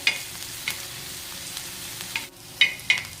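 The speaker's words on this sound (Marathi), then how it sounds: "बघा असं मिरची पण आपली तेलामध्ये फ्राय झालेली आहे" Chilies and crushed garlic sizzle in hot oil for a soybean chutney, a steady soft frying hiss punctuated by several sharp scraping clinks of a spoon stirring against the pan.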